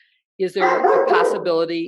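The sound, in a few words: dog barking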